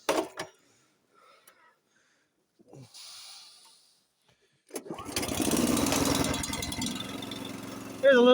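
A warmed-up Honda snowblower engine catches after a few scattered knocks and handling noises, then runs with a steady, close, chugging drone through the second half.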